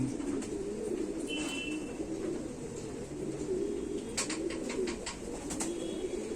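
Home-bred homing pigeons coo in low, throaty, wavering rolls that continue steadily throughout. Occasional faint chirps and clicks occur in the background, and no voices are heard.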